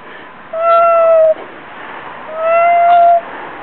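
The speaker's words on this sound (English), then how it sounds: "And here is the nickname Fugly the Cat." Outdoor neighbourhood cat on a street, two distinct drawn-out meows a second apart, close and clear over quiet background.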